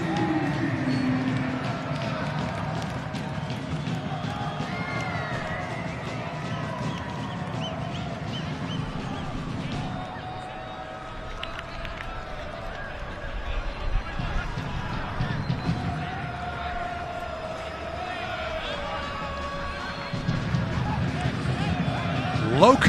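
Stadium crowd at Southwest University Park cheers after an El Paso Locomotive FC goal against Lexington SC, a broad sustained roar with swells and dips, fairly loud and continuous across the clip.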